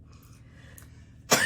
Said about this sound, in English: we're gonna end the episode on a coughing fit